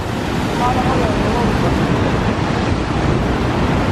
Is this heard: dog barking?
no